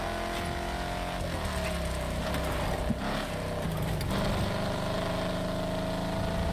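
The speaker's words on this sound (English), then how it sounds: "so the low revs, they also are improved with the Muscle Enhancer kit." Muscle car engine held at low revs in the racing game Need for Speed World, a steady droning rumble with a constant tone that stays loud and close throughout, with no talk over it.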